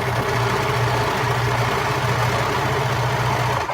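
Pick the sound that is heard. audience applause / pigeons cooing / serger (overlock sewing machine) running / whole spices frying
serger (overlock sewing machine) running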